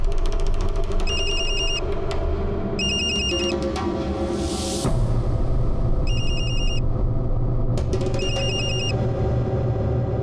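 A telephone rings in repeated electronic bursts over a steady rumbling background, with a brief whooshing noise midway.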